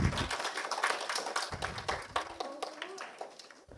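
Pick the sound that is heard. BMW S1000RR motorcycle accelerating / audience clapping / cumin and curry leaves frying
audience clapping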